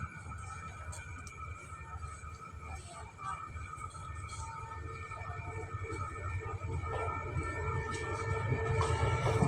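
Special express trains arriving at Ratchaburi station in Thailand, a low rumbling train approach with a long sustained horn-like tone and rail noise, growing louder toward the end.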